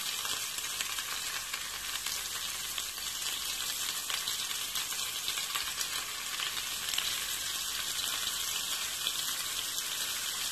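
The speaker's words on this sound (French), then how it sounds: "Là, je vais faire cuire la deuxième face." Salmon fillet frying on its second side in a pan, a loud, continuous close crackling sizzle that holds steady throughout with no talk.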